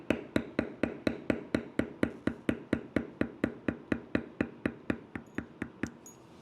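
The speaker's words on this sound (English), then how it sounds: "So I'm going to go ahead and I'm going to tool that leaf." Steady, evenly spaced mallet strikes on a leather stamping tool, beveling a leaf in a tooled leather canteen purse design; about two dozen sharp close taps in a regular rhythm, fading slightly toward the end, no talking.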